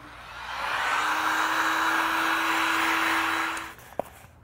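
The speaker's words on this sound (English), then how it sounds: "I wanna do a little bit of heat forming to get it into the shape I want" A heat gun blows steadily while heat-forming foam for a Loki mask, a loud whooshing airflow with a faint tonal whine that runs for over three seconds, then cuts off with a small click.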